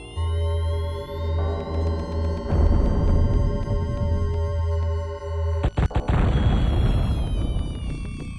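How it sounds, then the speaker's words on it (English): A bomb blows up a door in the DOS game Blackthorne, a booming blast over a droning, pulsing game soundtrack, with a sharp crackling burst partway through followed by rumbling noise. "You can use bombs to blow up doors and enemies like this one"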